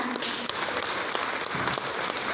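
A short, continuous burst of audience clapping, moderately loud and even throughout.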